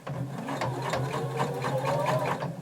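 A sewing machine stitches a hem around a skirt lining, a quick, steady rhythmic chatter of needle strokes running continuously close by.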